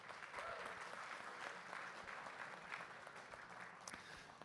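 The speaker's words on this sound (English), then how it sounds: "Give him a round of applause," Audience applause at a comedy roast during a crypto conference special, a steady wash of clapping from a crowd that holds for several seconds with no speech over it.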